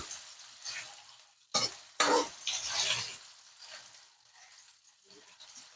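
Mung bean stew with tomatoes being stirred in a pan, a few scraping and clattering strokes with faint sizzling between them.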